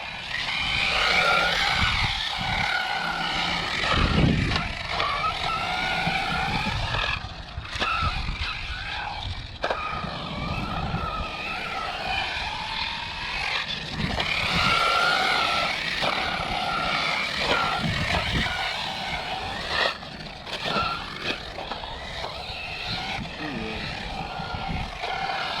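An ARRMA Typhon RC car with its electric motor revving as the throttle is pulled on and off, a continuous whine rising and falling over about 25 seconds with steady loud noise and people talking alongside.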